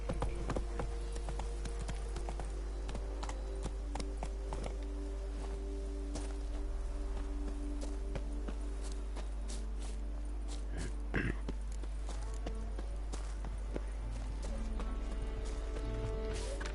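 Roach, Geralt's horse in The Witcher 3: Blood and Wine, clip-clops along in steady hoofbeats under in-game music and ambience, moderately close and fairly even in rhythm.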